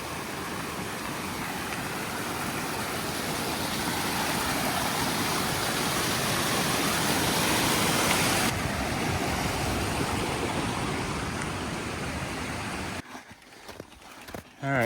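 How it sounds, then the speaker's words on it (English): Water pouring down across a mountain trail near an alpine lake around Tahoe, about 8,400 feet up near snow patches, a loud, steady rushing roar that fills the scene and breaks into handling noise at the end. "You basically have a waterfall in the middle of the trail."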